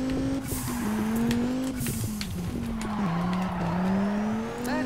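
Tires squealing as a car drifts around corners in the racing game Juiced 2, a sustained screech with a shifting pitch over a steady engine drone, close and fairly loud.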